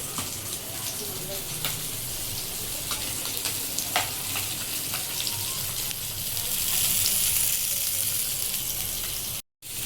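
Chicken pieces fry on a hot tawa in a home kitchen, giving a steady broadband sizzle that swells louder toward the end, with clinks of utensils and faint background talk.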